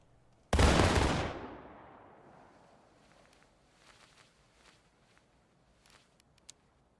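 A single loud rifle volley crashes out at once in War of Rights, a black-powder musket fusillade, its roar decaying over about two seconds into faint scattered shots and rustling farther off.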